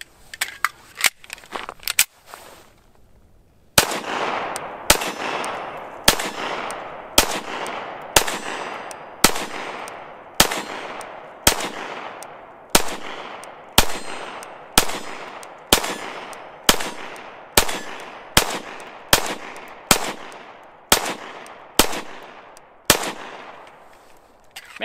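A Ruger-57 pistol fires a steady string of roughly twenty sharp, loud shots at steel targets outdoors, each crack followed by a brief ringing decay, spaced about a second apart after a few quick opening shots.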